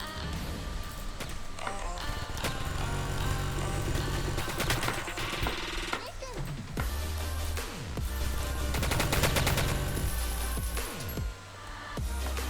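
Rapid gunfire in a Roblox Mad City Chapter 2 player-versus-player fight, with repeated bursts and dense, crackling volleys over a busy game soundtrack for the whole stretch.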